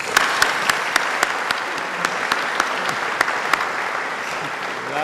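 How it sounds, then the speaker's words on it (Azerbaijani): Audience clapping steadily at a celebration honouring a geologist and oil worker, with a sustained wash of applause punctuated by sharp, regular individual claps close to the microphone. "Gəlin onu alqışlayaq."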